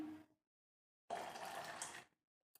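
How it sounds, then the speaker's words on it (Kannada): Water pours into a cup while coconut pudding is being made, a short splashing, filling rush of about a second heard close up between stretches of near silence. "ಇವಾಗ ಇದಕ್ಕೆ ಈ ಥರ ಕಪ್ಪಲ್ಲಿ ಒಂದು 3 ಕಪ್ಸ್ ನೀರು ಹಾಕ್ಕೊತೀನಿ"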